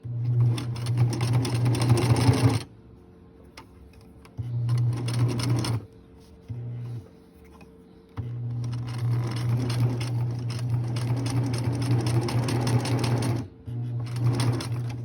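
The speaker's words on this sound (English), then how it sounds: "I'm going to sew in on both sides 1/3 of the way" A sewing machine stitches a fabric child's face mask in several loud, steady runs, broken by short pauses and a brief burst, with no talking.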